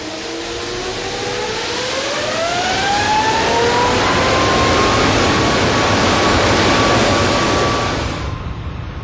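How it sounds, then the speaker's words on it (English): An Airbus A380 jet engine throttled up to full power for a blade-off test swells into a loud, roaring whine with rising tones, holds steady for several seconds, then cuts off abruptly. "at last the throttles are opened and the engine brought to its full,"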